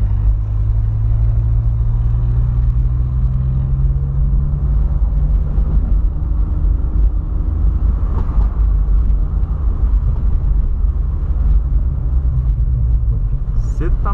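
A Volkswagen Polo with a new engine drives along with a steady, heavy low rumble and engine drone that holds through the whole stretch, close and loud, without a clear rev change.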